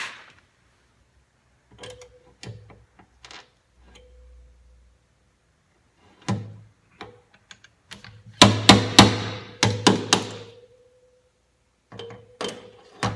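Metal car body panel being hammered back into shape during bodywork repair, sharp isolated knocks and taps at irregular intervals, with a quick cluster of louder ringing bangs midway, close and alone without talk.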